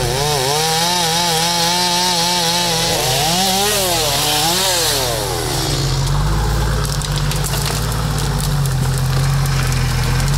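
A chainsaw revs up and down, then bites into an obstacle blocking an off-road competition track, its engine loud and close, bogging under load as it cuts.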